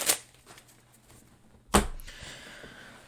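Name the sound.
deck of cards being shuffled (Illusionist cardistry deck)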